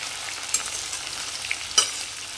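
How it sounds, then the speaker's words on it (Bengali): Whole cloves, cinnamon and small cardamom stirred in a frying pan with tomato pieces while cooking chhana kofta curry: a soft, steady sizzle with a few light spatula scrapes and clicks, quiet and close. "লবঙ্গ, দারচিনি আর ছোটো এলাচ দিয়ে করছি আবার নাড়াচাড়া"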